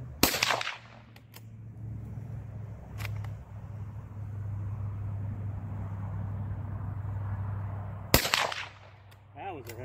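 Two loud gunshots crack outdoors about eight seconds apart, each followed by a short rolling echo, with a steady low engine-like drone running between them.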